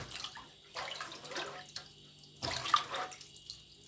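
Fresh shrimp and other Pad Thai ingredients get rinsed in plain water in a basin, with soft splashing and sloshing in a few uneven bursts, close and fairly quiet.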